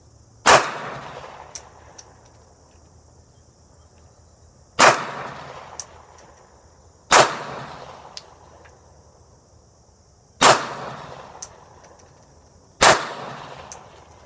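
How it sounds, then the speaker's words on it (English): A Beretta 84BB (Cheetah) pistol fires .380 ACP rounds outdoors in five loud, sharp single shots spaced a couple of seconds apart, each followed by a brief echo, with insects chirping faintly. "Alright, there, I'll shoot 6 shots fired."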